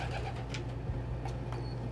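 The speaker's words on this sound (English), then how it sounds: "You are an adorable bird." A pet pigeon or dove coos softly indoors, with low repeated coo tones over a steady hum and no talking.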